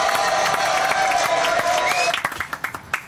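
Dense crowd applause with some cheering, holding steady before thinning out into a few scattered, fading claps.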